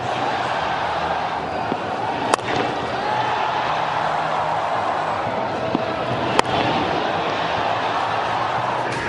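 Sanath Jayasuriya's cricket bat strikes the ball in a fast T20 innings, two sharp cracks standing out over a steady stadium crowd murmur.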